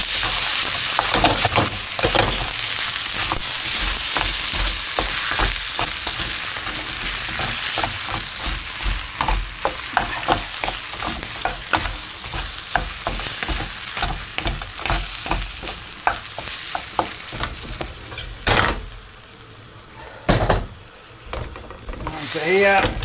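Beef, mushroom and egg fried rice sizzling loudly in a pan while being stirred, with continuous frying crackle and repeated scraping, clattering strokes of the utensil throughout.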